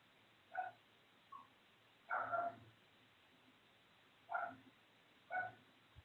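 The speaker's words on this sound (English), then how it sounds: "I don't know if you guys can hear my dog." Dog barking faintly in the background of a quiet indoor room, several short, muffled yelps spaced a second or two apart.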